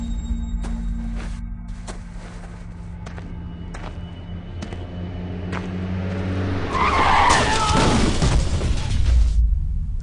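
A car skids across pavement with a rising screech of tyres, then strikes a man on foot in a dramatic film sound effect; a loud, dense burst of noise and impact near the end follows steady low background rumble.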